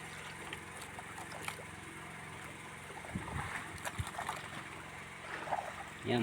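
Boats on open water close by, a low, faint engine rumble and water wash with scattered knocks and splashes, growing a bit busier toward the end.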